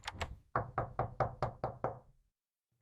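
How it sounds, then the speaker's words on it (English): Seven sharp, evenly spaced knocks rap on a door at close range. The knocking stops abruptly and is followed by a near-silent pause. "Someone is knocking at the door."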